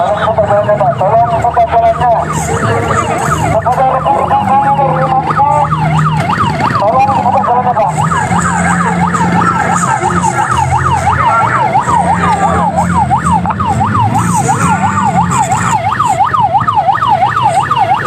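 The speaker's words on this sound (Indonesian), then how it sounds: "Kita sedang membantu ambulans lewat ini." An ambulance siren wails loudly and up close, cycling rapidly and continuously as the ambulance is helped through a protest on a badly damaged provincial road. Crowd noise and voices run underneath.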